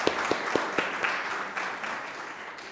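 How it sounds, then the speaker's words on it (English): A conference audience at a healthcare leadership session claps for a panel speaker: a few sharp, distinct claps at first, then a soft, steady patter of applause that gradually fades. "I would like to make an applause for you"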